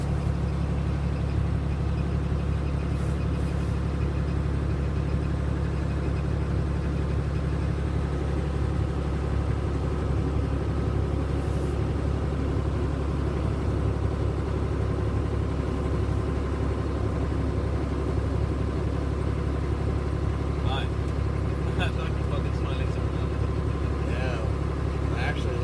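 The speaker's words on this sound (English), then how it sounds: "Truck's getting warmed up enough that the water temperature is starting to rise now." A commercial truck engine idles steadily while warming up during driver license training, a constant low rumble with no revving, heard up close for the whole stretch.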